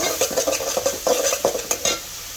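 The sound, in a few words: cooking bottle gourd in a pot, stirring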